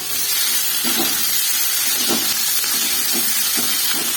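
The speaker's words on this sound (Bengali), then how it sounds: "আর লঙ্কা এটা আমি দিয়ে দেবো তেলের মধ্যে এটাকে ভেজে নেবো" Chopped onion and chilli sizzle in hot oil with a loud, constant hiss and occasional soft pops.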